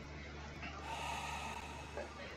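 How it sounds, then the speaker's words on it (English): Faint, close breathing in a horror video game: soft, raspy breaths and snorts over a quiet ambient hum, creepy and low in level. "I heard someone breathing."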